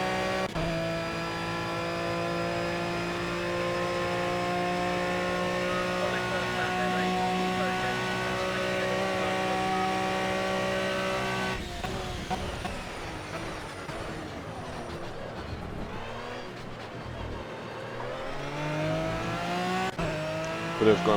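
An Aston Martin Vantage V12 GT3 racing a fast lap at Monza in Project CARS, a steady, loud, droning engine note that shifts partway through into rougher, changing revs.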